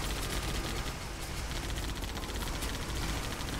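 Vehicle turret gunfire from the video game Arma 3 rattles in dense, continuous automatic bursts, loud and close, with overlapping shots and battlefield rumble filling the whole stretch.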